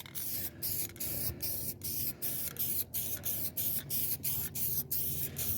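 Lacquer thinner hisses out in repeated short spray bursts onto bass boat carpet, about a dozen close, even pulses with brief gaps between them, steady and moderately loud, no one speaking.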